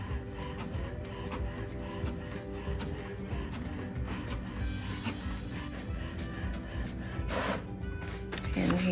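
An HP Smart Tank 500 all-in-one inkjet printer runs off a colour copy, giving a steady close mechanical whir with rhythmic feed clatter and rubbing for the whole stretch, louder near the end.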